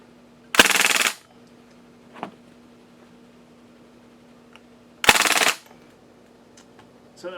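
An Elite Force IWI Mini Uzi airsoft gun fires full auto in two short, loud bursts of about half a second each, separated by several seconds of near silence with faint clicks.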